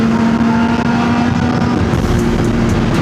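A Yamaha R6 sport motorcycle being ridden, its engine a loud, steady drone mixed with rushing wind noise that continues unbroken throughout, with no talking.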